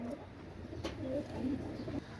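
Pakistani high-flying pigeons coo softly in a loft, a few low, rolling calls close by under faint background noise, with no talk.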